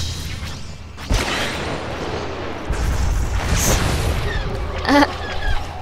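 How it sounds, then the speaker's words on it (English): A missile fired at turrets in the space combat game SWTOR: low booming blasts and rumbling explosions over a steady background hum, with a sharp whooshing launch burst near the end. "I just sent a missile"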